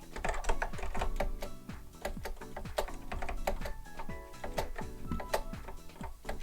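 A Macintosh Plus keyboard clacks under rapid typing, a dense run of close, crisp key strikes with a few louder hits, all steady and without talk.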